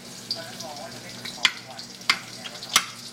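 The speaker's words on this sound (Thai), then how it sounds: "ใส่กระเทียม พริกขี้หนู ลงไปเลยค่ะ ผัดให้หอมนะคะ" Garlic and bird's eye chilies being stir-fried in hot oil in a wok, a close, steady sizzle punctuated by three sharp scraping clacks of the spatula against the metal.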